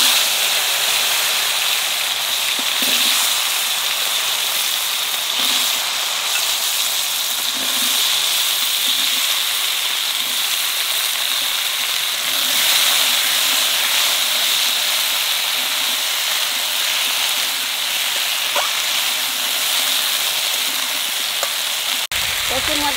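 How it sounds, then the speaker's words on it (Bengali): Chunks of taro frying in oil in a pan, just after fish was fried in it, give a steady loud sizzle and hiss that fills the whole stretch, with faint stirring knocks now and then. "এখানে গাঠি কচুটা একটু ভাজিয়ে নেব"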